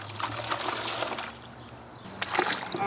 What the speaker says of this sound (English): let's go ahead and put maybe 1 or 2 inches of water in this basin